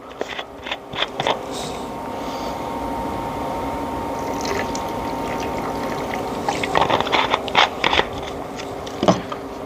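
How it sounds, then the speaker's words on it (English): A splash of apple cider vinegar poured over pork belly burnt ends, giving a soft steady trickle of liquid under a faint constant hum, with a few sharp clinks and knocks at the start and end. "a little splash of apple cider vinegar"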